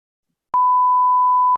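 A timer being started gives a single clean electronic beep, a steady tone lasting about a second, clear and alone after silence.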